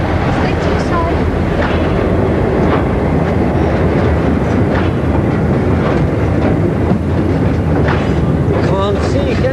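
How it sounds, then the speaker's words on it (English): Train rumbling along the tracks, a loud continuous roar with faint clacking throughout, close by, while voices talk underneath. "Train's coming."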